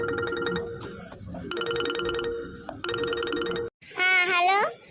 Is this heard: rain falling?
no